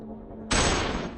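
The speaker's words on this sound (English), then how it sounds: "Gunfire rings out." A sudden loud burst of gunfire erupts after a brief quieter moment, a dense sustained crackle of shots.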